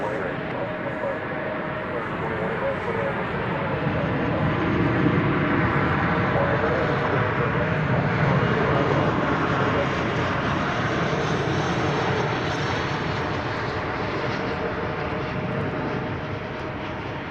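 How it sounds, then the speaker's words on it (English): An American Airlines Airbus A319 jet arriving at DFW Airport, a loud continuous engine roar that swells slightly and holds steady throughout, with a voice talking faintly underneath. "Here's an American Airlines Airbus A319 arriving from Pensacola, Florida."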